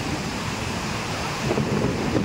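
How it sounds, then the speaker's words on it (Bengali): Heavy rain falls during a thunderstorm as a steady, dense broadband hiss that swells slightly toward the end, with no voices. "দেখো আমাদের এখানে কি বৃষ্টি হচ্ছে"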